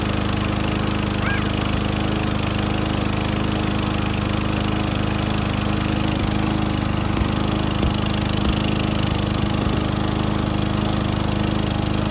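A Tecumseh engine on a Toro lawn mower running at a steady, loud, continuous drone up close, with no talk over it.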